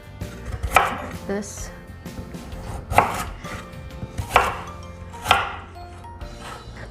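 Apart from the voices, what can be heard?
knife chopping carrot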